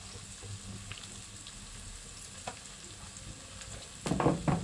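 Sliced onions and peppers fry side by side in a pan, a soft, steady sizzle with faint crackles that grows into a louder burst of spattering near the end, no talking.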